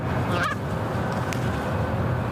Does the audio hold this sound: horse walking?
no